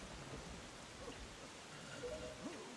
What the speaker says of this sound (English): And also, Ganon, that's not wind, that's rain